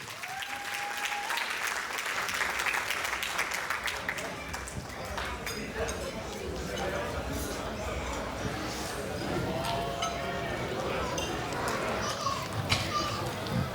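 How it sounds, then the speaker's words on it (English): Sustained applause from a large crowd at a wedding reception, steady clapping throughout with a few cheers and children's voices mixed in. "please, a huge round of applause"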